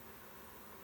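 Honey bees buzzing around an opened beehive on a warm day: a faint, steady, close hum with no voices.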